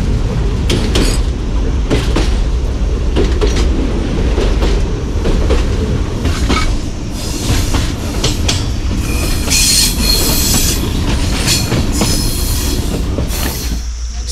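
Jand passenger train in Pakistan running, heard from inside the guard van: a loud, steady rumble of wheels on rails with clattering joints and occasional high wheel squeals, continuous throughout.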